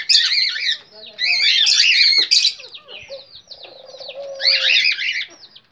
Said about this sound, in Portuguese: Filhotinhos da Garnizé.